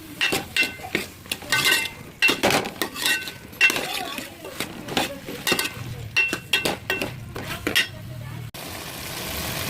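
Brinjal sautéing in oil in a pan with salt, a spoon clinking and scraping against the metal in irregular strokes while someone talks over it.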